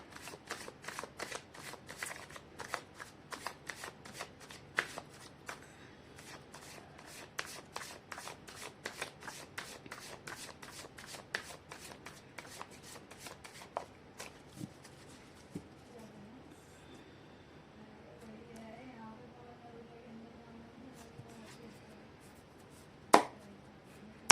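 A deck of tarot cards being shuffled, with rapid crisp riffles and slaps in quick bursts up close, thinning out later in the clip, then one sharp tap near the end.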